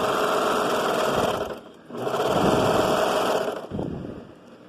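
A sewing machine runs along a child's shirt seam in two steady, whirring bursts separated by a short pause, then begins a brief third run. The stitching is fairly close and sounds alone.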